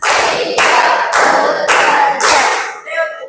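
Children's rhythmic clapping chant in Indonesian, five loud evenly spaced bursts of clapping close by, ending with a brief voice.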